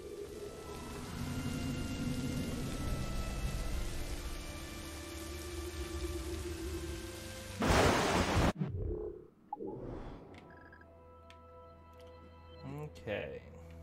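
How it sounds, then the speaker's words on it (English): Steady rain hisses in the Assassin's Creed Rogue video game, a broad continuous wash that ends in a sudden loud burst, followed by quieter game sounds and clicks. "Right as it starts to rain."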